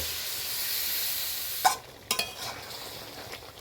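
Vegetables cooked down with spices in a pan for a Bengali masoor-kalai bori and vegetable dish, with a steady low sizzle and a few sharp scrapes of a spatula stirring the mix, close up and without talk.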